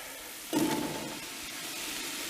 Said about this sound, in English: those onions are sweated down pretty good